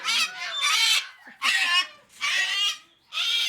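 Cockatoos give loud, harsh, raspy screeches close by, four long calls in a row separated by brief pauses, with no other sound between them.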